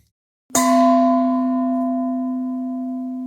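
A toneless singing bowl, struck once, rings out with a bright metallic onset and a long steady hum of sustained partials that slowly fades over a few seconds, heard alone.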